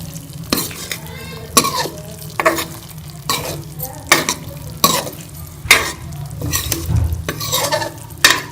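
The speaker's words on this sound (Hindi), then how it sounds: "सारे मसाले में हम अंडों को मिक्स कर लेंगे।" Eggs are stirred into spices in a hot pan for anda katli, giving repeated scraping, sizzling strokes at a steady rhythm, loud and close with no talk.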